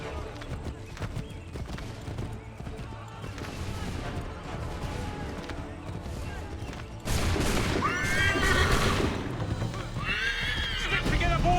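Horse whinnies from Assassin's Creed 3 rise over a busy in-game soundscape of hoofbeats and commotion, with several loud neighs coming close together in the second half while voices talk.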